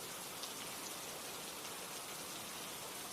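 Steady rain falling on a surface, a dense, even hiss of raindrops that stays constant and fairly soft throughout with no voices.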